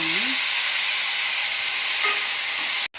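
Tomatoes drop into a hot kadai and set off a loud, even sizzle that holds steady up close, ending in a brief cutoff.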